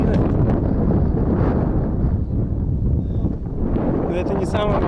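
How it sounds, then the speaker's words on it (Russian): Strong wind roars steadily across the microphone, a constant heavy buffeting rush, with a voice faintly audible beneath it. "Ну и ветер здесь такой уже приличненький."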